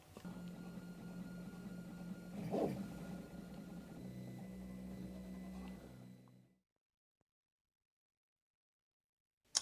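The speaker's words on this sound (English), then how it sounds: "That 3D printer needs some servicing." A 3D printer prints duplicate parts for a Commodore 64 repair, giving a steady mechanical hum with stepper whine and a brief louder burst midway, continuous for about six seconds before stopping abruptly into silence.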